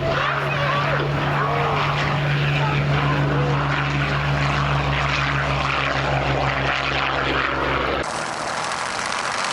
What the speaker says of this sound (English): Maintenant, écoutons le Hawker Hurricane au décollage.